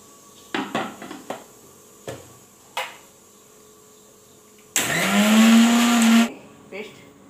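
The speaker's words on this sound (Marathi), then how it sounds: "चला आता हे करून मिक्सरमध्ये आपण" A kitchen mixer grinder blends a bhel puri paste of sweet-sour tamarind water with lemon and chaat masala, a loud whirring burst of over a second that follows a few scattered clinks and knocks.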